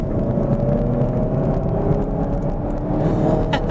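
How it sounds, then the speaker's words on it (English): A Hyundai i30N hot hatch on the road, heard as a steady, fairly loud engine drone with road and wind noise, the tone holding level throughout with no talking. "Okay then, so driving the Hyundai i30N."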